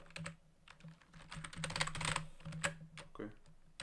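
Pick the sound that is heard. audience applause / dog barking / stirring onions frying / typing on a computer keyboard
typing on a computer keyboard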